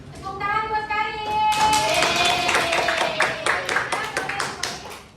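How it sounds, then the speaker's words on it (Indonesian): Classroom clapping for a student during a microteaching lesson, a burst of many hands mixed with children's voices and chatter, moderately loud and close. "Tepuk tangan buat Karin."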